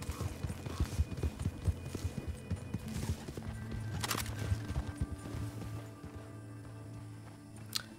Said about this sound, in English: Finally the horse comes.